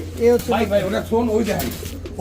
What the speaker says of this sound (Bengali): প্রতিটা কবুতর দর্শক যদি খাঁচায় ধরি তাতেই পাগলামি শুরু করে দেয় ডাকা শুরু করে দেয়